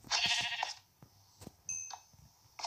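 A Minecraft sheep bleats loudly at the start. Sparse clicks and short chimes from the game follow in quiet stretches, with no talking.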